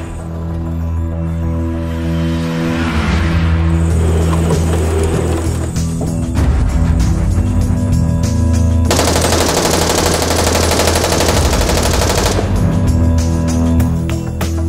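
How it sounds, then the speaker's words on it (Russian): Loud, sustained bursts of rapid machine-gun fire, dense rattling volleys close by that keep going with brief shifts in intensity. "Все, стрельба закончена."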